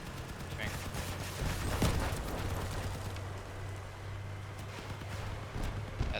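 Gunfire in the video game Crossout, a dense crackle of rapid shots with a sharper burst near the middle, kept fairly faint under a constant low hum of game sound.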